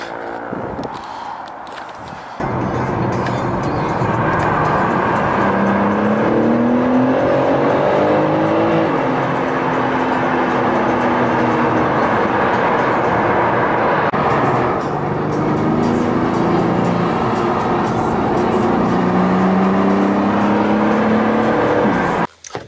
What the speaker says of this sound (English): we're back in the BM now, we're back in the 330i, my car